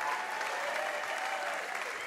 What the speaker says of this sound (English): your continued applause